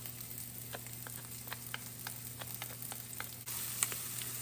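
Minced garlic, two cloves, sizzling in a pan with tender vegetables, a low steady crackle punctuated by sharp pops and taps, with a faint background hum and a brief louder burst near the end.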